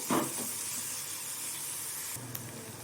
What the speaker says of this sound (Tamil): பூ வெள்ளைப்பூண்டு சேர்த்து ஒரு ரெண்டு நிமிஷம் நல்லா வதங்கட்டும்